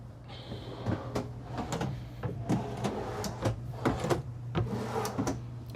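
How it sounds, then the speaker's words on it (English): Full extension drawer glides in a Newmar New Aire motorhome, heard as a series of sharp clicks and thuds at irregular intervals over a steady low hum, close and moderately loud. "down below, we've got some full extension drawer glides for additional storage."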